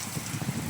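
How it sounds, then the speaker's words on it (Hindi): Heavy stormy rain pours down outside a balcony, a brief, dense, steady hiss with some low rumbling, moderately loud and without any voice. "बहुत तेज़ बारिश और तूफ़ान, ये तूफ़ानी बारिश हो रही है।"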